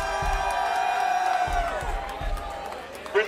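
Live audience at a club music show cheers and claps for a guest performer, a broad crowd roar with whoops and scattered claps, while a voice speaks over it.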